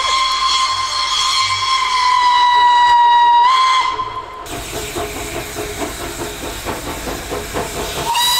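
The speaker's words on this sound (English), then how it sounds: "There's another train coming." A Mocanita narrow-gauge steam train's loud whistle blows for several seconds in snowy Romania, then hissing steam and rhythmic chuffing and clanking as the train rolls in close by.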